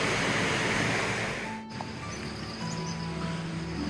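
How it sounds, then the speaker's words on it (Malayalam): Water flows steadily in a forest at Churulipetty, a dense, continuous rushing wash that fills the scene with no voices, dipping slightly in loudness midway. "വെള്ളം ഒഴുകുന്ന സൗണ്ടാണ് കേൾക്കുന്നത്."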